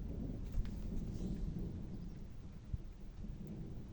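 Thunder from a thunderstorm rumbles low and steady, a continuous deep roll with no talking.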